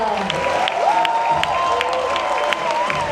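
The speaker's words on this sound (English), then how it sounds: "let's welcome them down to the stage with a big round of applause" A cruise ship audience welcomes crew members onto a show stage with loud, steady applause and cheering, a sustained whistle-like tone and crowd voices running through it.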